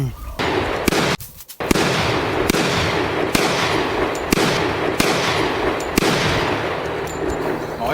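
A string of loud gunshots rings out about once a second in a staged action fight against a demon, each sharp crack sitting over a continuous, dense roar of background noise.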